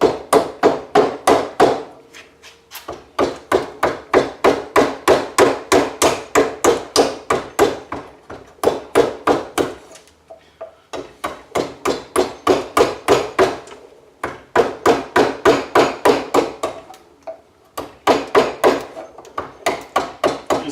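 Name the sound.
chiseling wood with a mallet for a model boat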